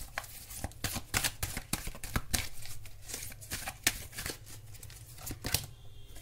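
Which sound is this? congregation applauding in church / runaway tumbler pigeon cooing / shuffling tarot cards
shuffling tarot cards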